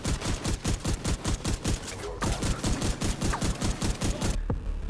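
Rapid bursts of ACS-12 automatic shotgun fire in the video game The Division 2, loud, close booming shots in a steady fast rhythm, with a brief pause mid-clip and a sudden stop near the end.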